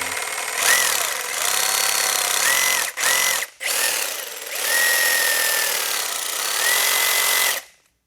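Milwaukee M18 cordless Sawzall reciprocating saw running loud and close, a harsh continuous buzz with a couple of short cutoffs and a final wind-down, the pitch wavering slightly as it runs.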